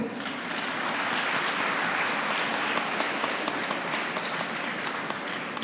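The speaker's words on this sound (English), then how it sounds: "Let the applause continue." Sustained, dense applause from an audience at a university convocation ceremony, steady and fairly loud throughout with no speech over it.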